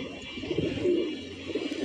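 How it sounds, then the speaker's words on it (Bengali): Pigeons coo softly in a low, rolling murmur, close by, with a few short bursts as birds settle and land. "কবুতরগুলো উঠতেছে"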